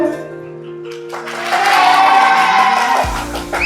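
Wedding guests break into applause and cheering for the bride, a broad crowd clapping that swells after a quieter start and holds steady before tapering off.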